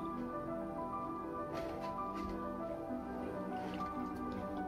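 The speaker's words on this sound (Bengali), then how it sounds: "দেখো উপর থেকে এইভাবে ডিটারজেন্ট পাউডার মেশানো জলটা, গরম জলটা আমি এইভাবে দিয়ে দিচ্ছি।" Hot water mixed with detergent powder is poured over a conch shell, giving a steady close trickle and dripping splash that runs throughout without pause.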